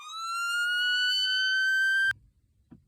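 Siren on an early-2000s Crown Victoria Police Interceptor in wail mode: one long, slow-rising electronic tone, loud and close, that holds for about two seconds and then cuts off abruptly, leaving near silence.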